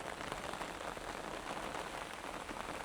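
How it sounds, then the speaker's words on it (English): Heavy rain falls steadily on surfaces nearby, a dense and even hiss of drops that stays faint and unbroken with no voices. "The rain's getting quite heavy now."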